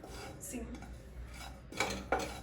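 Ajwain seeds dry-roasting in a pan over a low flame, heard as light scraping and rattling stirs with a few sharper clinks of a utensil against the pan, fairly close and moderately quiet.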